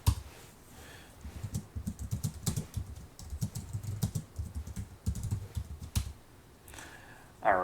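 Someone types Linux commands on a computer keyboard, a close, quiet run of rapid irregular key clicks in short bursts with brief pauses between them.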